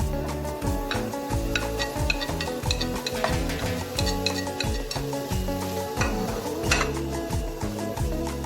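Bacon cooking in a pan for a creamy pasta carbonara, with a steady low crackle and scraping stirring sounds running throughout at moderate loudness, along with tonal music in the background.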